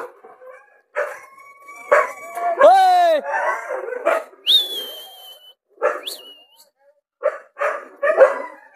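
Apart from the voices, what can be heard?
dogs barking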